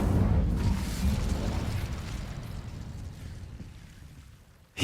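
An Incendio fire spell blast in Hogwarts Legacy: a loud, rumbling burst of fiery roar that starts at full strength and slowly fades over a few seconds, heard alone.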